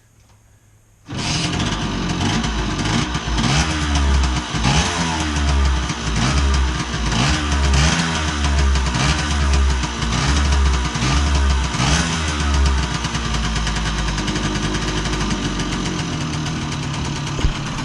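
A Bridgestone 60 Sport motorcycle with a little choke is kicked or cranked from ice cold and catches after a second, then runs loud and close with a throbbing, slightly uneven two-stroke beat that steadies into a fast idle.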